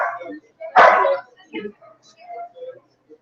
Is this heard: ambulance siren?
no